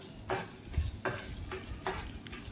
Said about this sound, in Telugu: 1/2 టేబుల్ స్పూన్ జీలకర్ర వేసుకొని బాగా ఫ్రై చేసుకోవాలి